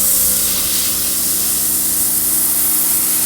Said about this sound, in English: when you have it low pressure and you're spraying thin